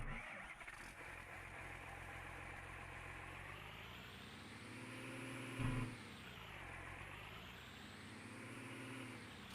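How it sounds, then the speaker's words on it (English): Wheel loader engine in Farming Simulator 19 drones steadily at a low, even pitch, rising and falling gently as it works, with a brief louder thump partway through; no talking over it. "And then we have our new wheel loader here,"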